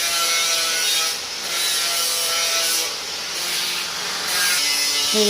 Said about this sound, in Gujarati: જો આપણે જે તેલનું મોણ નાખવાનું છે અને બધું મસ્ત મિક્સ કરી દેવાનું છે